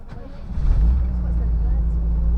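Engine catches and starts on the second attempt, building into a close, loud low rumble that settles into a steady idle, with talk over it.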